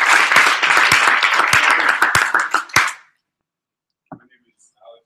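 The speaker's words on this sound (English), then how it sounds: "Can we give a round of applause to Gustavo?" A group at a camp gathering applauds a person named Gustavo: close, loud, fast clapping from a fairly small crowd, with sharp individual claps standing out, fading out after about three seconds into near silence with a couple of faint later sounds.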